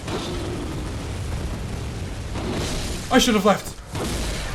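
Enemy gunfire in the video game Bloodborne, a few heavy booming shots over a dense rumbling game backdrop while a player talks over it.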